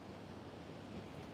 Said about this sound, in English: I always like to start by just kind of listening to the ocean